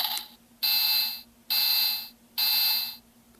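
Mattel Handheld Electronic Baseball game sounding its triple indicator: three evenly spaced, sustained electronic beeps, each about a second long, loud and close with short gaps between, no talking.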